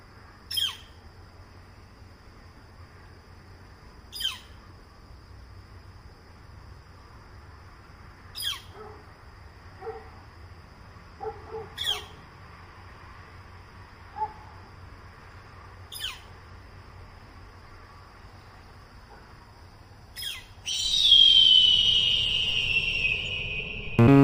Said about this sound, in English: A northern flicker has decided to make my yard its home, and I'm honored.